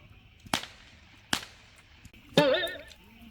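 Two sharp cracking bangs about a second apart, then a louder whistling, crackling burst, firecrackers going off outdoors nearby at a seaside campsite.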